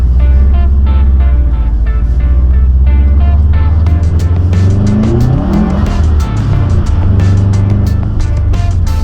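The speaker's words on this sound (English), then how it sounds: "driving in the snow," A Subaru WRX drives through a Chicago snow blizzard, its engine loud and close throughout, revving and rising in pitch midway with some tire noise, and no talk over it.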